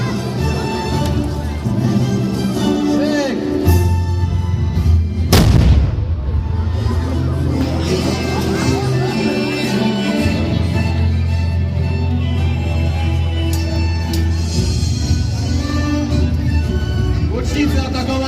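Musket and cannon fire booms during a reenactment of the 1466 siege of Chojnice, a loud blast standing out over constant crowd noise, shouted commands and announcer talk.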